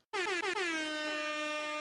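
A single loud, blaring air horn blast, sustained and harsh, with a couple of brief stutters near its start.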